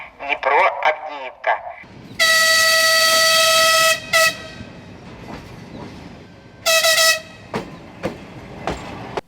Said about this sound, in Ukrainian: На четверту колію до другої платформи прибуває регіональний поїзд номер 826